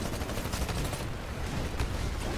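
Rapid automatic weapon fire in the Titanfall video game, a continuous clattering volley of shots over busy battle noise for a couple of seconds.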